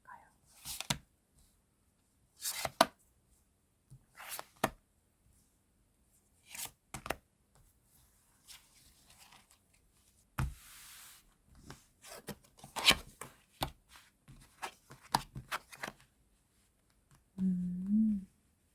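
Tarot cards are shuffled and drawn in short bursts of rubbing and flicking, separated by quiet gaps, with a brief low voiced sound at the end.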